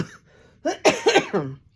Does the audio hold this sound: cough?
yes